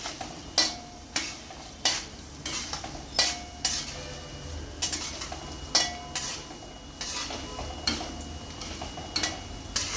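Tempering seeds sizzle gently in hot oil in a pan for a puffed rice snack, while a spoon stirs them with regular metallic clinks and scrapes against the pan, close and fairly quiet.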